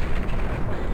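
An enemy weapon fires in the video game Doom 3, a loud, continuous booming roar of heavy shots close at hand, filling the whole second without talking.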